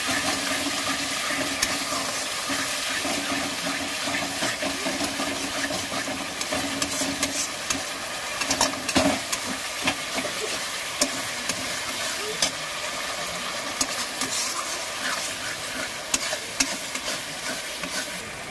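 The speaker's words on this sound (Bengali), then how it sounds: "দইটা দিয়ে ভালো করে মশলাটা আর ভালো করে কষিয়ে নিচ্ছি।" Spice paste cooked down with yogurt for a jackfruit kofta curry sizzles steadily in a pan while a spoon scrapes and stirs through it, a continuous frying hiss with irregular clinks and scrapes, no talk.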